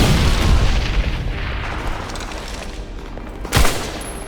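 A deep boom and rumbling blasts in Medal of Honor Airborne, a heavy explosion rolling into distant battle fire, with a sharp second burst near the end.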